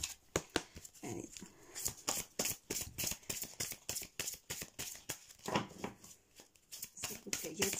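An Angels of Love oracle card deck is shuffled by hand in steady, rhythmic bursts of flicking and sliding cards, close and continuous, with a voice at times.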